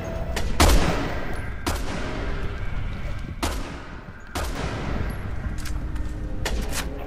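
Sniper rifle fire in the video game Resident Evil 6: a string of sharp, loud shots, about eight of them, spaced irregularly over a constant low rumble of game ambience.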